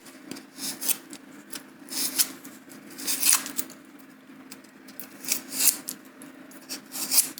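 Pliers pressed and dragged over the surface of a handmade giant model mushroom to add texture, giving soft rhythmic scraping and rasping rubs in irregular bursts, close and fairly quiet.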